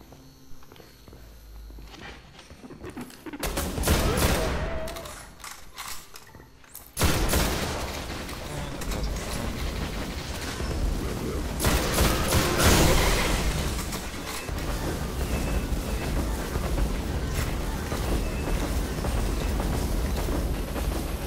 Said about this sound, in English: Non-stop shooting, of course.